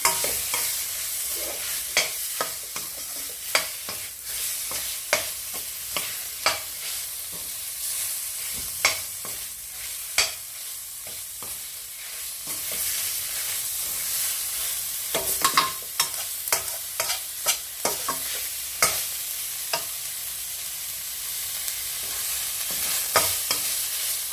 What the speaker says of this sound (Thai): หมูป่าผัดไปกับน้ำพริกแกงนะคะ